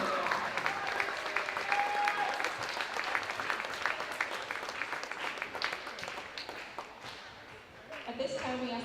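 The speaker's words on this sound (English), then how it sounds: "Warm round of applause for our seniors and their parents" Warm applause from a high school gym crowd at a girls' varsity volleyball match honoring the seniors and their parents, steady dense clapping for about seven seconds before fading, with a voice over the PA near the end.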